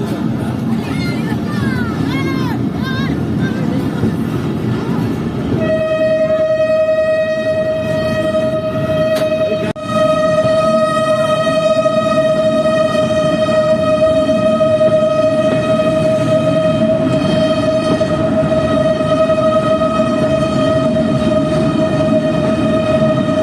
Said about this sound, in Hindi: अब आप लोग ये देखें कि चमन पैसेंजर इस अनोखे तंग बाजार में कैसे चलती है